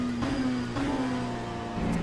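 A race car engine in the video game Le Mans Ultimate hums with a steady, moderately faint tone, its pitch wavering slightly with a brief rise near the end.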